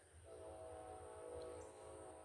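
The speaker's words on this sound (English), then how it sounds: "holy train, bro." A train rumbles past with a sustained horn blast, steady and moderately distant, with low-end rolling noise beneath and no talking.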